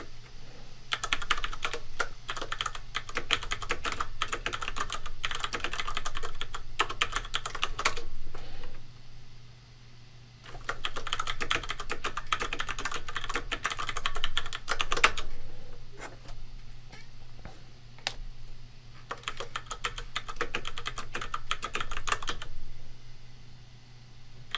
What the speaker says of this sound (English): that's what I get for not looking at the keyboard while I type